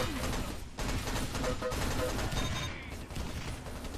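Assault rifle fire in a competitive 5v5 team video game match, dense bursts of rapid shots and mechanical clatter running nearly continuously at a steady level, with no talk.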